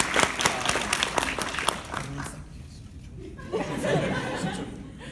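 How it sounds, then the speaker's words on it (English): Convention audience at Momocon 2017 applauding and laughing during a voice-actor panel, dense clapping and chuckles that thin out midway, then a livelier burst of crowd noise returns near the end. "Such a wonderful, civilized applause."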